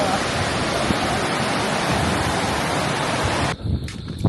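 A waterfall in Sierra Madre, Aurora, a dense, loud roar of rushing water that cuts off abruptly near the end, followed by quieter handling noise.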